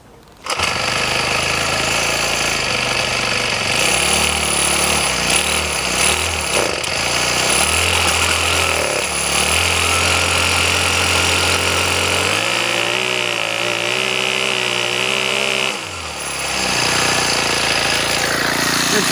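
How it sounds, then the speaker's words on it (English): A Craftsman 4-cycle gas weed trimmer engine starts and settles into a steady idle, giving a loud, close, continuous motor drone whose pitch shifts and wavers toward the end. "Okay, there we go, fire the sucker up."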